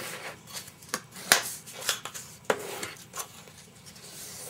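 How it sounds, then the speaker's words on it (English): Scored cardstock is folded in half for a 6x6 mini album, giving close papery crinkles, rubs and several crisp creasing snaps. "Fold that in half."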